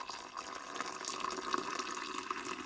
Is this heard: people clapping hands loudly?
no